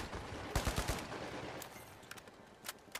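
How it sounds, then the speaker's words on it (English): Gunfire in the video game The Finals during a tournament match, a quick cluster of distant-sounding shots followed by a few scattered faint cracks over steady background ambience. "I hear a bunch of shooting over towards the other point."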